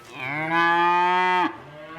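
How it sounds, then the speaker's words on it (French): Jersey dairy cow on a farm giving one long, loud, steady moo that lasts over a second and then breaks off, followed by a softer trailing sound with no talk. "un troupeau de 90 têtes, dont 45 vaches laitières de race jersiaise"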